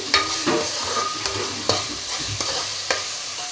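Turmeric is stirred into an egg omelette curry in a pan: close, loud spatula scrapes and taps at irregular intervals over a steady frying sizzle, with no talk.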